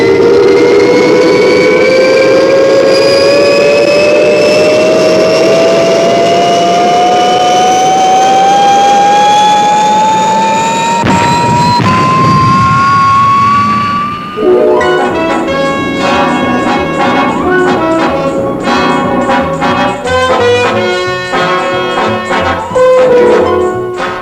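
Fireball XL5 spaceship lifting off, a loud rising engine whine and roar climbing steadily in pitch for about fourteen seconds, then giving way to pulsing, rhythmic music-like tones.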